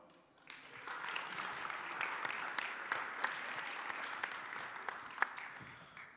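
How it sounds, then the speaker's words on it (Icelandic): Applause from the crowd at an Icelandic bench press championship, rising quickly from a quiet start into steady clapping with distinct individual claps, then tapering slightly at the end. "Gefum strákurum gott klapp."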